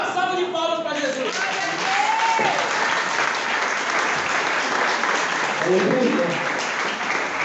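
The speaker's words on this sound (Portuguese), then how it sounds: "E dá uma salva de palmas para Jesus." A church congregation breaks into sustained, dense applause that fills the room evenly throughout. A preacher's voice calls out briefly over it at the start and again later.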